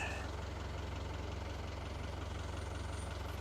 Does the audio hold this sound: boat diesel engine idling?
yes